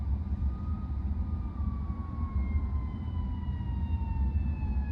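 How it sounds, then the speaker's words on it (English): An ambulance or fire truck siren wails at a distance on city streets, heard from inside a Tesla Model Y, its pitch sweeping slowly downward, over a low rumble of traffic. "There's an ambulance or fire truck coming through here on the left-hand side."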